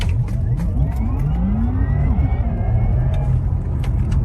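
A Porsche Taycan Turbo S Cross Turismo electric car launches hard under launch control, its rising whine sweeping upward through the pull with strong road and wind rumble inside the cabin, loud and continuous.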